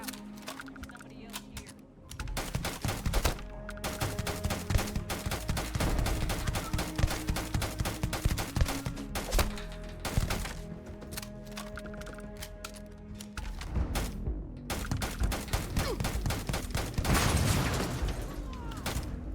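Rapid gunfire from a weapon in Starfield crackles in dense, continuous bursts of shots, loud and near, with brief pauses between volleys and no talking over it.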